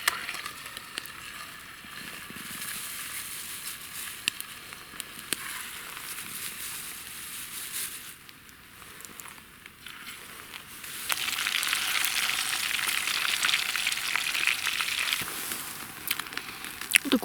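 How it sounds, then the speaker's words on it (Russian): Fish frying in oil in a pan beside a campfire outdoors, a steady close sizzle and hiss that swells louder toward the end, with faint crackles and no talking. "И на сковородочке буду жарить рыбу. Наливаю масло на рыбку."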